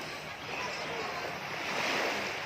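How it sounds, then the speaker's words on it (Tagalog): Sea waves washing onto a beach near Sibali Island, a steady, moderately loud rush of surf blended with wind noise, no speech. "Dito naman tayo sa dagat"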